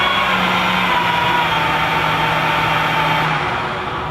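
Metal lathe turning hard, heat-treated steel at around 600 RPM, giving a steady, loud motor hum and whine that holds constant throughout with no speech.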